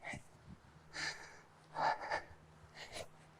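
Heavy, effortful breathing after barbell exercise: three or four ragged breaths, gasping inhales and snorting exhales spaced about a second apart, close to the microphone but fairly quiet, with no talking.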